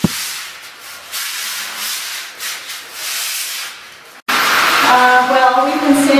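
Sanding plaster walls and corners in an apartment under construction, a raspy rubbing hiss that rises and falls in strokes, then cuts off abruptly and gives way to louder, harsher grinding noise near the end.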